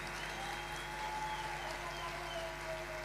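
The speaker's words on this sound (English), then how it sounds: "Give her a warm round of applause." Summit audience applause rolls on as a steady, fairly distant wash of clapping across the hall, with no voices standing out above it.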